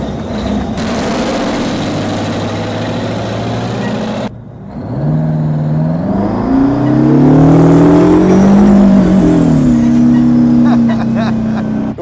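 A giant 8-ton truck with a 1,500 cubic inch, 2,200 horsepower engine drives and revs, its deep engine tone climbing and falling, loud and close, with a brief break midway and other engine noise behind.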